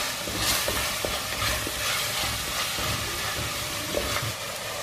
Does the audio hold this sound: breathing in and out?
no